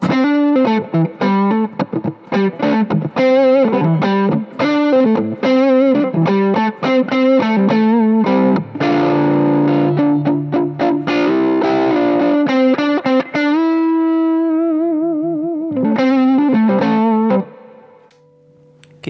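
Electric guitar plays a chordal riff through a Kitty Hawk amp, with a wet, splashy spring reverb tail ringing out as the final notes fade.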